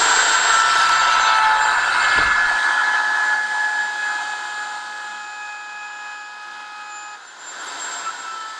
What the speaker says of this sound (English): we are ready to route our pick guard